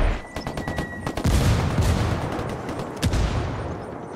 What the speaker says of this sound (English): Taking a lot of fire over here.